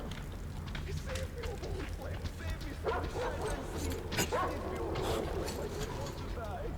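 A dog in Metro Exodus barks and whimpers repeatedly amid game ambience and footsteps, with someone talking over it throughout.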